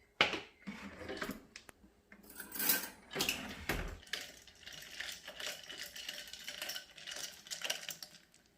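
A spoon clinks and scrapes around a bowl of mint lassi as salt is stirred in, with irregular close tapping and swishing bursts at moderate volume and no talk.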